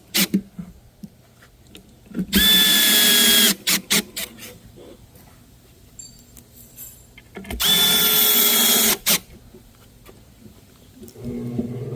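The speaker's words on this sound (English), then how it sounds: "And I'm just screwing." A specialty drill drives screws into a custom cabinet panel, two loud sustained whirring bursts a few seconds apart, each ending in a short stop, with quieter handling noise in between.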